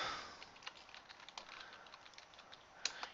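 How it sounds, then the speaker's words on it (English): Quick, light keystrokes on a computer keyboard enter an address into a game-engine console, forming a steady close-up patter of soft taps with no talk. "Type in the address"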